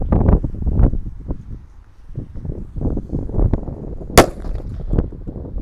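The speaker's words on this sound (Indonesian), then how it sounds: "ini ada mercon tongkat Krakaget ya. Kita masukkan ke dalam toples dan siap kita nyalakan." A Krakaget stick firecracker sealed inside a plastic jar goes off with a single sharp, loud bang that rips through the jar, standing out over steady outdoor wind rumble and scattered handling noises.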